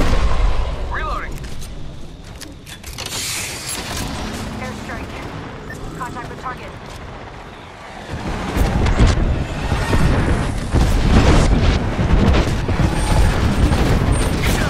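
Apex Legends match with an airstrike: bursts of rapid gunfire and sharp cracks early on, followed by a dense, loud rumbling barrage of explosions building in the second half, with in-game character voice lines over the action.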